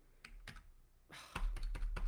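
Keys on a computer keyboard clack in short, uneven bursts, a few isolated taps followed by a faster run of typing, close and fairly quiet against a low background hum.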